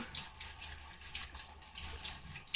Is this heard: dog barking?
no